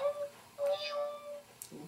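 A person imitates a meowing cat in a couple of short mewing calls, fairly quiet and close, over a faint steady tonal background.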